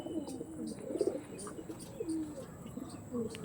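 Tournament-quality white pigeons coo repeatedly in a loft, soft rolling calls close by with light chirps and a faint background hum.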